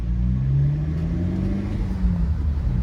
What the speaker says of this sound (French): le turbo, tu l'entends bien, tu sens qu'il souffle bien